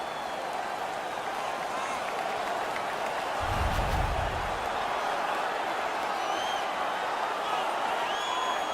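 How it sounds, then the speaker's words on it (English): A hockey arena crowd in the NHL 19 video game keeps up a steady, dense roar and cheer from start to finish, with a brief low thump partway through. "The crowd is all over them right now."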